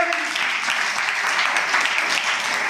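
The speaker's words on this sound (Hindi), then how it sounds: "ताली बजा बच्चे।" Children clapping together at a school fair, a steady, dense patter of applause close by that carries on without a break, with a few voices faintly mixed in.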